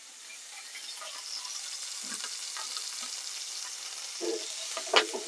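Shallot sizzling in a hot frying pan as it is stirred with a stick, a steady close crackle with scattered scraping knocks and a sharper clatter near the end.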